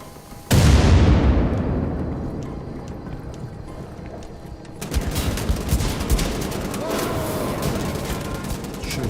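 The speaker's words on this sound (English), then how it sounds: "They're gonna keep throwing grenades at me." Grenades explode and gunfire rattles during combat in Wolfenstein: The Old Blood, opening with a loud blast whose rumble decays, then a dense stretch of shots and further detonations.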